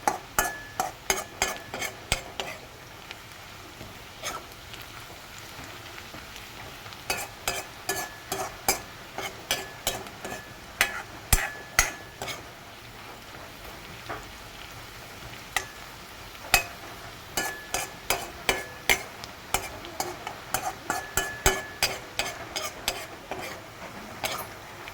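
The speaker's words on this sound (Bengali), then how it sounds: "আরও অল্প সময় ভাজবো।" Onions fry in a pan for a simple egg curry while a spatula stirs them over and over, making rapid runs of sharp metallic scrapes and taps above a low, steady sizzle. The stirring comes in bursts with short pauses between them.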